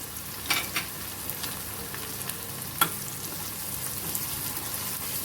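Onion and curry leaves frying in a pan for a raw banana curry, a soft continuous sizzle with a few sharp stirring clicks, fairly quiet and without talk.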